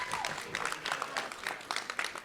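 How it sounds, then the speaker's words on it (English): A conference audience gives a round of applause during a self-determination session, scattered uneven claps heard fairly softly in a hall. "Give her a round of applause."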